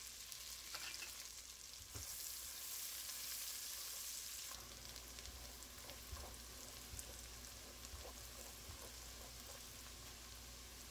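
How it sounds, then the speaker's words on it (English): Onions cook in bacon fat in a pot with a low, even sizzle and hiss like light rain, steady and faint throughout, with a few soft ticks and no talking. "throw in your onions and cook down until translucent"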